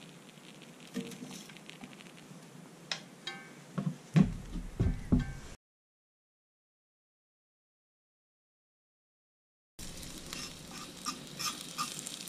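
T-bone steaks sizzle and crackle in a hot cast iron pan outdoors, with stirring clatter and bursts of frying noise, then a silent gap before the sizzling resumes.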